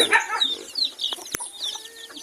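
Chicks in a brooder bedded with straw give high, thin peeps and chirps, several overlapping calls near and fairly loud, with a sharp knock partway through.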